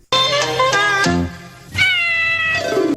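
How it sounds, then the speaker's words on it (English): A cat meowing in the MTM Enterprises logo, a spoof of the MGM lion: two loud, close, drawn-out meows with a brief gap between them, clear and alone. "the MTM Mary Tyler Moore Enterprises Inc. logo was a spoof of the MGM lion, featuring Mimsy the cat"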